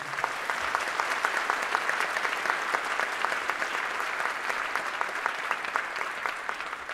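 An audience applauds a band after its jazz rendition of a song at an outdoor sunset concert for the Black Ship Festival: dense, steady clapping holds for several seconds without anyone speaking.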